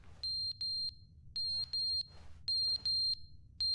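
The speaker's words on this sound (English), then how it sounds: "Oh, the fire alarm is off." Fire alarm in the video game The Stanley Parable, sounding as a loud, piercing electronic beep in repeated short pulses, mostly in pairs, over a low steady hum, with no talk.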